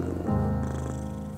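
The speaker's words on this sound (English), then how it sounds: "That's my cat, Willy." A pet cat purring close up, a steady low rumbling throb that holds without a break, with no talking.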